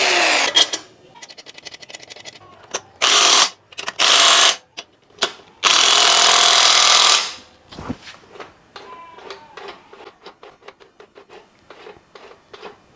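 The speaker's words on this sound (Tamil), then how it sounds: "ட்ரில் பண்ணி ஓட்ட போட்டுக்கலாம்." An electric drill bores holes in metal while building a propeller-driven bicycle, loud whining bursts of drilling separated by pauses, then a rapid series of lighter clicks and taps.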